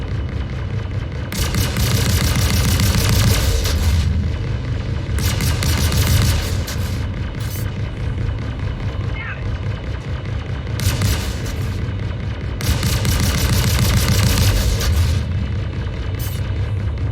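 Video game combat in Star Citizen rages with loud, dense bursts of gunfire and booming explosions, roaring in repeated waves over a constant rumbling background.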